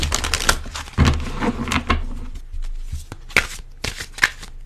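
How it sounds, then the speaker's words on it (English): Tarot cards are shuffled and pulled in a series of crisp, close riffling bursts separated by short pauses, loud and without any talking. "I'm going to pull some more cards here."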